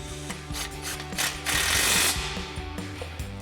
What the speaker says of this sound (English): Tighten that back down with our 13mm socket.